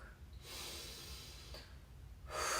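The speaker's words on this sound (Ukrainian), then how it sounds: "І потім робимо видих." A long, steady breath exhaled during a calming body exercise for anxiety, a soft airy rush sustained for nearly two seconds, followed by a louder burst of breath near the end, with no speech.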